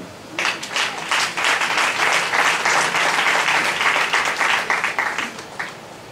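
A congregation at a church worship service bursts into sustained applause, dense overlapping clapping that rises quickly and holds loud and steady for several seconds before thinning out near the end.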